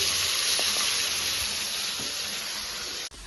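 Drumstick flowers fry in a pan, giving a steady close sizzle with faint scrapes of stirring, until the sound cuts off abruptly near the end.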